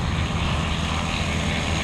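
A Skyleader 600 light aircraft taxies toward the runway with its propeller engine droning steadily and loudly at close range, a broad continuous hum with no talk over it.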